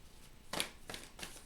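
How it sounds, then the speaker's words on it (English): Tarot cards shuffled in three quick riffling bursts, each a short crisp papery rush with pauses between, close and fairly quiet with no talking. "I'm going to shuffle a couple more times and then I'll pull the cards."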